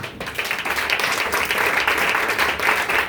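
A church congregation bursts into sustained, dense applause, many hands clapping close and loud in a continuous roar of claps.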